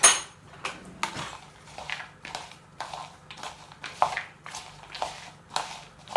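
Apple pieces with plenty of cinnamon being stirred for gluten-free festive flapjack, a series of soft clinking spoon taps and scrapes against a bowl in a steady irregular rhythm, quiet and close.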